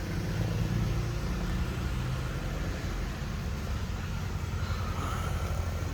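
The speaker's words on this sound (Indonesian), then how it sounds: "Mesinnya udah nyala. Suaranya terdengar halus teman-teman." A used car's engine idles smoothly, a steady even hum with a broad rushing noise that holds level throughout, close by.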